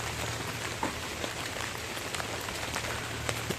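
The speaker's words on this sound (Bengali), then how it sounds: "বৃষ্টি হচ্ছে বৃষ্টির মধ্যে" Steady rain falls on a street while someone walks along under an umbrella at night, a dense, even patter with scattered sharper drops landing close by, no voices.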